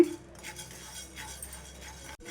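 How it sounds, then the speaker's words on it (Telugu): Toor dal being dry roasted in a pan and stirred, with soft scraping and faint clinks of the spoon against the pan, low and steady with no voices. "ఈ విధంగా కలుపుకుంటూ వేయించుకోవాలి"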